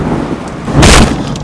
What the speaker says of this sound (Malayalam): നല്ല മഴയുണ്ട് കേട്ടോ ഇവിടെ